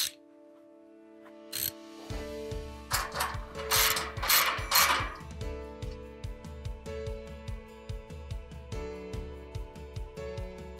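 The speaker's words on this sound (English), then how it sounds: "When your shelves can be easily installed and removed, now is the time to tighten all the bolts." Ratchet tightening bolts on cantilever shelving, a steady series of regular metallic clicks close up, joined by a louder burst of clattering early on before settling into an even rhythm.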